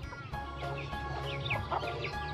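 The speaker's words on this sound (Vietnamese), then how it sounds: "Vậy là hôm nay nhà mình có mấy đàn gà con nhỉ? Hai đàn gà con." Chickens cluck in a farmyard flock, a steady stream of overlapping clucks and short calls close by, with a constant low background hum.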